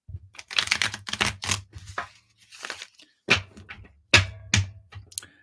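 A deck of tarot cards is shuffled up close in several quick riffling bursts separated by short pauses, with no talk.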